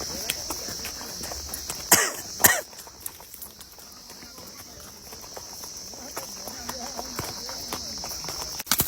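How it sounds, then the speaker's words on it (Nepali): Horse hooves clip-clop on a ride in Kanyam, Nepal, with another horse approaching. Two louder hoof strikes stand out early, then a quieter, steady patter of steps continues under faint outdoor ambience. "अर्को घोडा नि आउँदैछ"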